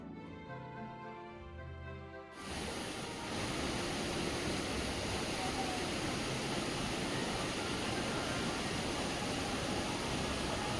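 A waterfall near Yuksom in West Sikkim roars as steady, dense broadband rushing water, loud and constant. A short stretch of music plays at the start before the water sound takes over.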